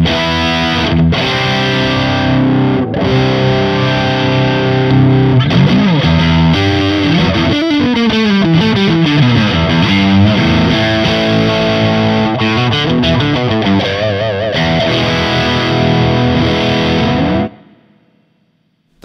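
An electric guitar fitted with Kinman noiseless Jazzmaster pickups plays loud, distorted riffs and sliding chords through a high-gain amp, then stops abruptly into near silence with no audible hum.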